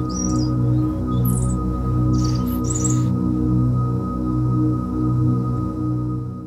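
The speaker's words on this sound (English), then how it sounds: "And I'm using Aftertouch to bring in some samples of birdsong," Birdsong samples chirp in a few short bursts during the first three seconds, layered over a sustained, mellow zen-style pad from an Equator2 synth that pulses gently and continues alone afterward.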